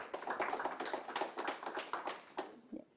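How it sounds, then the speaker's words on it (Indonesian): Audience applause at the soft launch of InaRI Expo 2022, a steady patter of many hands clapping close by that thins out toward the end, with no talk over it. "Beri tepuk tangan untuk kita semua"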